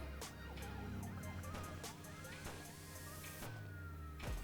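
Police car siren wails in a mobile open-world crime game, a steady wavering tone running throughout over busy game engine and traffic noise, with no talk.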